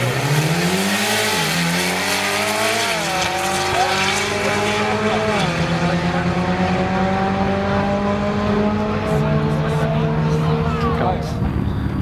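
Modified Mitsubishi Evo and Sportback race cars sound off with engines rising and shifting through gears, tires squealing in places, loud and continuous with a voice audible over the motors.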